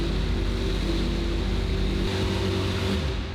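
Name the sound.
engine starting up and running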